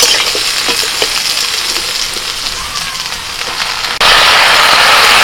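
Potatoes, taro and ridge gourd frying in a pan give a close, steady sizzle with faint stirring scrapes, jumping to a louder, fuller hiss near the end.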